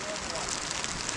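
Steady heavy rain pours down in foggy hill-station weather at Matheran, Maharashtra, a dense continuous hiss filling the scene with no clear breaks.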